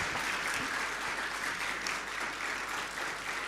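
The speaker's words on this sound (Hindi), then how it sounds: "एक बार तालियां हो जाए तो कलाकारों की" An audience at a music festival applauds performers from the Saptak School of Music, Ahmedabad, with dense, even clapping from a large crowd holding steady throughout.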